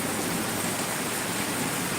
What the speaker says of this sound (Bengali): এখানে বৃষ্টি প্রচুর বৃষ্টি কঠিন বৃষ্টি হচ্ছে